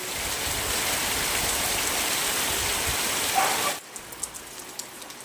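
Steady, even hiss of light village rain falling, continuous for several seconds before it abruptly drops away to a few scattered drips.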